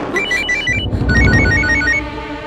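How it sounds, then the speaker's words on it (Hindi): A telephone rings in an indoor scene of a Hindi courtroom TV drama. Its electronic ringtone plays repeated bursts of bright trilling tones, loud and close, over a low rumbling music bed. "फोन।"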